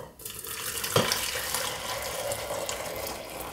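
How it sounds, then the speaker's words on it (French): Hot water at 85 degrees, not boiling, is poured over green tea, a steady close splashing stream that runs for several seconds and tapers off at the end. "Ensuite je vais verser dessus une eau chaude mais pas bouillante."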